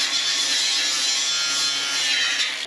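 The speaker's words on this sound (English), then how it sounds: "I'm going to go ahead and clean all the rust and the surface where my two joints are" Rust being scrubbed off a steel surface at the weld joints of a metal mobile workbench before MIG welding: a steady, close, continuous abrasive rasping that holds even throughout, with no talking.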